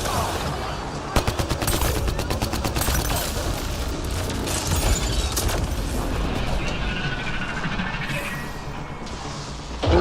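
In the video game Mass Effect Andromeda, sustained gunfire rattles in rapid bursts of automatic shots mixed with heavier booms, loud and dense over a busy combat background.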